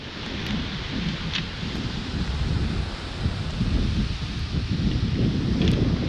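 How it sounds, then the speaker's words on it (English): Rain and gusting wind sweep over a pebble beach in a continuous broad roar that swells slightly toward the end. "Yeah, and so that entire time it was raining."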